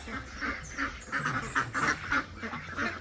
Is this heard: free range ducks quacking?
yes